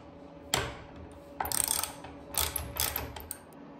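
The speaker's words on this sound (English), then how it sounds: "here you see me replacing some of the small screws that came with the hinges with some long carriage bolts" Long carriage bolts are fitted to swing gate hinges, giving a few sharp metallic clicks and short ratcheting, grinding bursts, close but quiet, with no talking.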